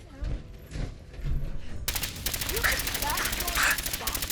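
Rapid video-game gunfire in Fallout 4 rattles as a dense, continuous automatic burst that intensifies midway, with a voice speaking over it.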